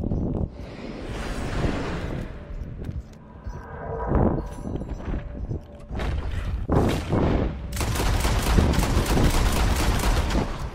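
Heavy gunfire in Red Dead Redemption 2 online, a dense barrage of overlapping shots and booms that swells into a sustained, loud volley toward the end, with no talk over it.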